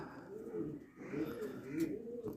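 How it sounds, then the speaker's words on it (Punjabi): Domestic pigeons coo softly in a repeating, throaty rolling rhythm, close by and fairly quiet, with a few faint rustles in between. "ਕਬੂਤਰ ਵੇਖੋ ਆਪਣੇ ਪੁਰਾਣਾ ਕਬੂਤਰ"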